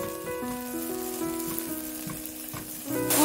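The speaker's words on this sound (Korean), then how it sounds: "냄비에 올리브유를 넣고 대파를 넣고" Sliced green onions frying in olive oil in a pot for a octopus ramen, a soft continuous sizzle under steady tonal background music, with the sizzle swelling louder near the end.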